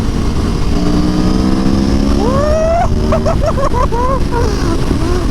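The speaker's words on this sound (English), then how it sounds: "You crank this throttle, it just wants to rip your arms off" A 2017 Aprilia Tuono V4 1100 Factory motorcycle engine revving hard, one rising throttle sweep followed by several quick sharp blips, loud and close over a rumbling idle.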